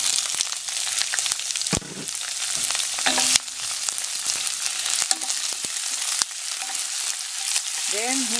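Onion and garlic sauté in hot oil for a Filipino ginisang patola dish, a loud, continuous sizzle broken by occasional clinks and scrapes of stirring.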